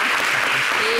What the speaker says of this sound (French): merci d'applaudir la régie